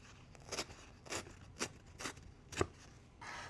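Damp cardstock paper torn by hand along a straight edge during card making, heard as five or six short rasping rips spaced about half a second apart, close and fairly quiet, with no talking.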